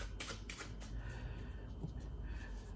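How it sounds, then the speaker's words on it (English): A deck of playing cards being shuffled by hand for a close-up magic trick, a fast run of riffling clicks and flutters that sounds close and steady, with no talk during it. "you're going to ask a spectator to shuffle those and they give these a thorough shuffling"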